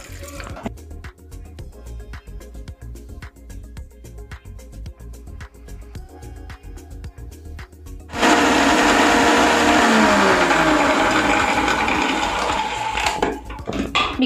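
A mixer grinder blends grapes with rock sugar and water for homemade popsicles, its loud, sustained whirring motor bursting in after a stretch of quieter rhythmic background and running continuously to the end.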